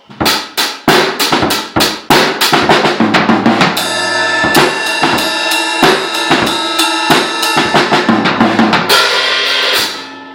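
A steady 4/4 drum beat with a rapid run of snare strokes in a paradiddle fill, then cymbal crashes and a driving groove with more quick rolls, loud and close.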